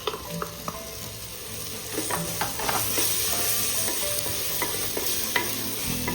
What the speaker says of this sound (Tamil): இஞ்சி பூண்டு விழுது நல்லா வதங்குது